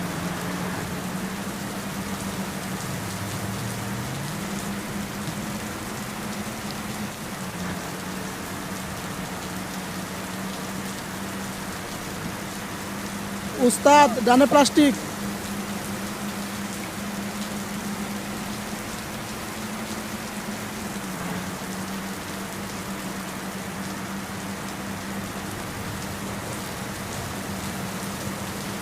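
Steady patter of rain drumming on a moving bus, a continuous hiss over a low engine drone, with a brief burst of louder clatter midway and a short spoken phrase.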